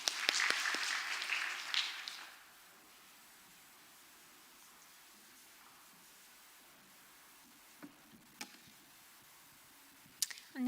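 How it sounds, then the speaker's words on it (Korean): A congregation at a Wednesday evening church service applauds loudly for about two seconds before a testimony, then the clapping dies away into near silence with a few faint knocks. "박수해 주세요."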